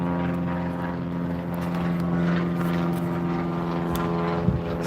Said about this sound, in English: Those planes can be annoying though. You hear that? Non-stop.